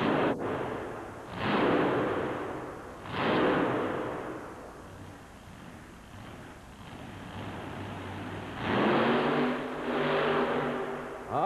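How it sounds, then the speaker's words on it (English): A supercharged Chrysler-powered monster truck at a 1990 USHRA Cincinnati event surges on and off the throttle, its engine bursts rising and falling in several loud waves over crowd and arena ambience. "You could hear him on and off the throttle all the way"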